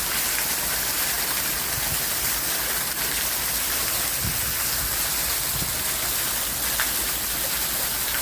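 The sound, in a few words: heavy rain in Jamaica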